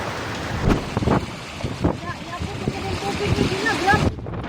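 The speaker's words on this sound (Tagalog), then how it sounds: "Paguros ng baha." Floodwater from a typhoon rushes through city streets in Mandaue City, a loud, steady wash of turbulent water and wind noise heard up close and continuous throughout.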